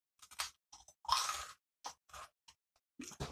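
Salt and vinegar Rustiks potato sticks crunched between the teeth, a handful of brisk, dry crackling bites in short bursts with pauses between, close to the mic and fairly quiet.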